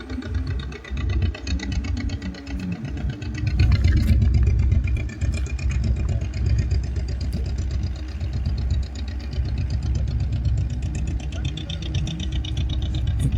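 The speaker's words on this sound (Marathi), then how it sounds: "ही संत चोका सागराच्या पायथ्याशी जाणारी रेती माफियांची बोट या पॉईंटहून जाताना दिसत आहे" The motorboat of a sand-mining crew passes on Khadakpurna dam reservoir near Sant Chokha Sagar, its engine a loud, steady low chugging drone that swells slightly, with someone talking over it throughout.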